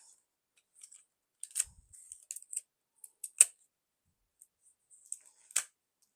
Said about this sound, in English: cut a little corner off of this one as well